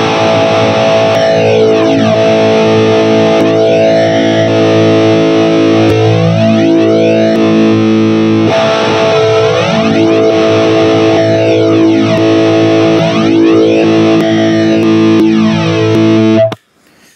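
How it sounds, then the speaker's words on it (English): A distorted electric guitar chord rings steadily while a flanger effect is switched in and out, adding repeated sweeping jet-like whooshes that rise and fall. The sound is loud and close, then cuts off abruptly at the end. "I'm going to turn the switch on and off, and you'll hear, the flanger come in just wherever it happens to be at that moment"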